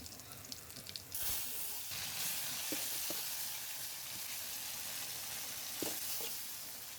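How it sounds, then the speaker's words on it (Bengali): Boiled vegetables fried with garlic in a pan, a faint continuous sizzle that starts abruptly after a quiet moment, with occasional soft clicks and stirring scrapes, heard alone. "আমি এগুলো এখন রসুন দিয়ে বাগা দিব।"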